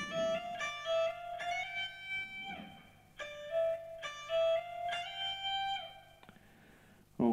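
An electric guitar, tinged with effects, rings out the closing phrase of a fast rock lick, with quick clear high notes in bright bursts, then a pause and a brief final hit, played alone.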